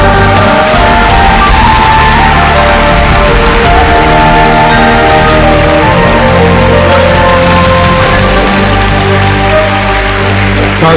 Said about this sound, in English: Give the Lord the biggest clap of you